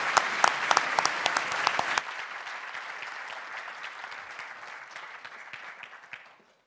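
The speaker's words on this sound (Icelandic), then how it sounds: "það kom sérstaklega mikið klapp núna" An audience claps enthusiastically for a startup pitch team at a final competition event, starting with sharp close claps, then dense sustained applause that gradually fades out.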